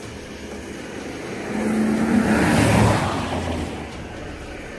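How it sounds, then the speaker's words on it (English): A vehicle approaches and passes on a road at night, its engine swelling to a peak then fading away over a steady background hum. "The sound of an approaching engine turns out to be nothing more than oncoming traffic."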